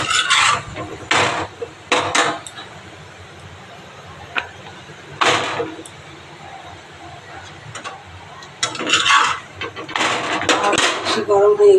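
Cucumber and onion are being chopped on a board, giving bursts of quick, crisp knife taps separated by pauses, with a voice speaking between the cuts.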